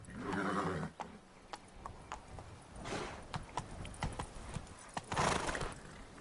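Horse hooves clip-clop as Roach is ridden in The Witcher 3, with a whinny at the start and bursts of galloping, all close and fairly loud, with no talk.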